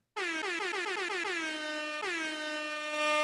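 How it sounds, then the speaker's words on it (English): A loud, sustained air horn blast with pitch bending as it sounds, briefly re-triggered midway, close and alone without talking, at an outdoor block party. "there's the air horn right there"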